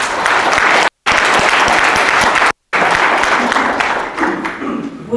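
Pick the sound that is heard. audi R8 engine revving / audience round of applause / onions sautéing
audience round of applause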